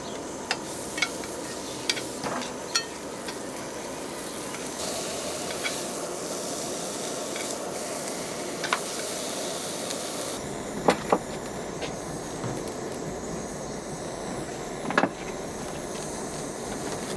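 Venison searing in a pan with a little oil and butter during a cookery demonstration at an agricultural show, a continuous hiss and sizzle with occasional sharp clicks and taps, moderately close.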